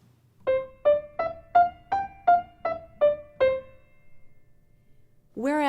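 Nine short, detached notes are played evenly, each cut off sharply with a clear gap between them, followed by a pause and the start of a louder sound at the end.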